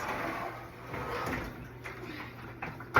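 A sliding door is pulled open from left to right, giving a soft, drawn-out rolling scrape that ends in a brief knock, with no talking over it.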